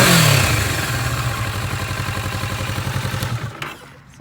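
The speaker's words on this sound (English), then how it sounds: "this is the Kawasaki Vulcan S650 Cafe style with the two-tone color. And I'm going to give you guys a little bit of revs" A Kawasaki Vulcan S650 Cafe-style motorcycle engine revs up close and loud, a steady throbbing idle pulse rising in a few blips before dropping off near the end.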